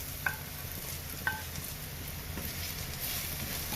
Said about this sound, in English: Now we add in the dry chili.